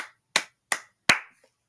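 A preacher claps his hands three times, each clap loud, sharp and close, evenly spaced about a third of a second apart with silence between and no talk.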